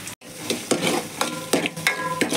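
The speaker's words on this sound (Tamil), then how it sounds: "செவக்க வதக்கணும்ப்பா." Green chilies, garlic and onion sautéing in a pan, a steady close sizzle broken by repeated scraping stirs at a regular rhythm, with no voices.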